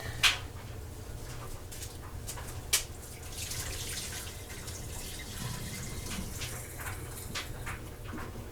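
Water from cooked bok choy drains into a sink in a fairly quiet, continuous wash with a couple of sharp clanks near the start and partway through.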